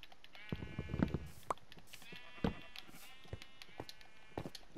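Yellow-dyed sheep in a Minecraft world bleat repeatedly, several overlapping calls at near and medium distance with short clicks in between, and no talk over them.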